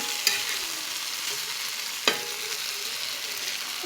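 A spatula scrapes and flips food in a sizzling frying pan, with steady frying hiss and two sharp metallic scrapes against the pan, close and moderately loud, with no talking.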